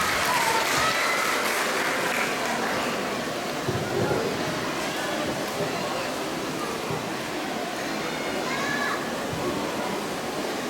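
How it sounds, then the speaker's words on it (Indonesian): A church congregation at a Sunday service applauds the Sunday school children, sustained lively clapping that fills the room from start to finish, with a few voices and murmurs mixed in. "Sekali lagi mari kita berikan tepuk tangan yang meriah buat anak sekolah minggu kita."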